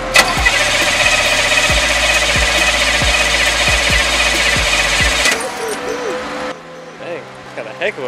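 A 1984 Chevy Camaro Z28 with a freshly changed manual fuel pump cranks over in repeated rhythmic starter pulses against a loud roaring fan, without catching, before cutting off to quieter background noise.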